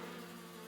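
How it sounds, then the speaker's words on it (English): Cartoon bees swarm around a hive in a tree, giving a steady, close insect buzz that drones on without a break through the whole short moment. "All those bees."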